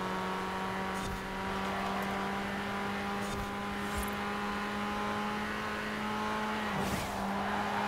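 A Mini driving in Forza Horizon 4, a steady humming engine drone at an even pitch, with a short dip near the end and faint tire noise in the background.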